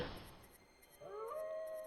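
A wolf howls in the King's Quest 2 adventure game, a rising, wavering cry that swells after a short lull and holds at moderate loudness over quiet background.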